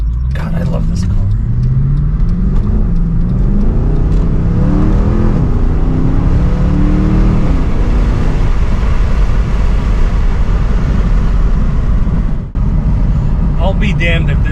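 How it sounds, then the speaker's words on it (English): Mercedes C63 with a cold engine, revving gently with rising and falling engine tones that stay close and loud throughout, no talk over it. "We're not gonna rip it too much, the engine's still cold"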